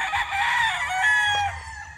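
A rooster crows loudly and close by on a rooster farm, one long drawn-out call with another bird's cry briefly overlapping, set against faint low background noise.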